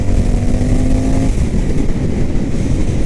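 An Indian FTR S motorcycle engine pulled at wide open throttle in fifth gear from a low lope near 3,000 RPM: a loud, close, rough engine roar with a rising whine at first, steady and unbroken, no talk.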